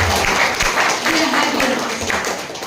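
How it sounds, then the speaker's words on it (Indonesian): A congregation clapping during an Indonesian church service, a dense steady patter that stays loud throughout, with a voice speaking over it. "Kasih tepuk tangan bagi Raja"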